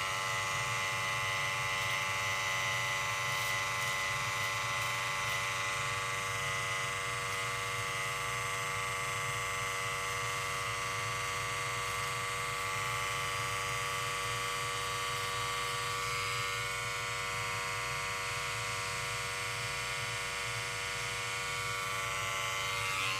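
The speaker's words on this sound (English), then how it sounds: "you basically line it with an unguarded shaver" Unguarded electric shaver lining a mustache on curly-haired client, a steady close buzzing hum running unbroken throughout with no talking.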